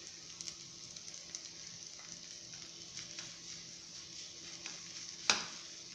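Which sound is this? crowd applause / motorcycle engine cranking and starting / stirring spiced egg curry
stirring spiced egg curry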